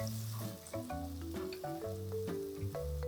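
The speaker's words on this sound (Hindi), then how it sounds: "बिल्कुल ज़रा सा हम करेंगे सौते।" Spring onion bulbs sauté in hot oil in a wok, sizzling steadily at close range with scattered clinks and stirring scrapes, quiet and without talk.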